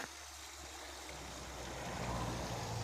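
A small mountain stream trickles and splashes steadily, a continuous close watery wash that swells slightly toward the end, with no voices.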